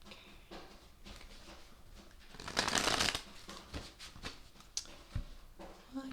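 Tarot cards riffled and shuffled by hand in a quiet room, a steady papery patter building to a dense burst of flicking cards midway, then scattered softer taps and shuffles.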